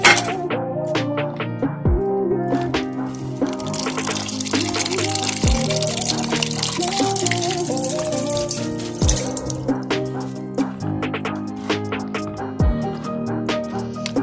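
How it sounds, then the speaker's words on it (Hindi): Tea saucepan and dishes are washed under running water in a village home kitchen, a continuous close faucet stream with splashing, interrupted by occasional clinks and knocks of metal utensils against the sink. "एक चाय वाले सॉस पैन और ये मेरे बर्तन हैं, तो मैं इनको अभी से वॉश कर लूँगी"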